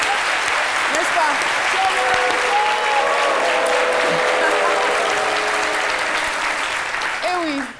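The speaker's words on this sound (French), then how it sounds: "on l'applaudit" Steady applause from a TV studio audience on an Ivorian midday show, loud and sustained throughout, with faint voices and musical tones woven in underneath.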